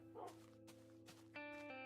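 Many dogs in Minecraft give short, faint yips and barks at irregular intervals over a quiet, steady background hum.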